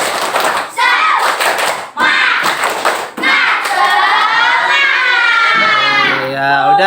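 Children in a fourth-grade Islamic studies class at an elementary school perform a rhythmic clap chant, with loud bursts of claps and shouted chanting voices giving way to a long, drawn-out group shout.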